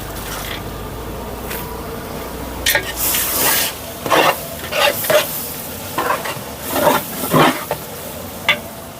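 Cashews and tomatoes sizzle and fry in a large pot of biryani masala for a big batch, with repeated close, loud stirring scrapes and bursts of spattering over a steady frying hiss.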